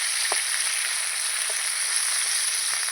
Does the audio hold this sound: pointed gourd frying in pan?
yes